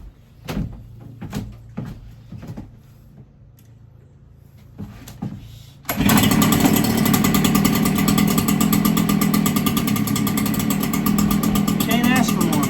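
A 7910 lawn mower engine starts on the first pull with the choke on. After some clicks and knocks, it bursts into a loud, steady close-up idle roar that continues to the end.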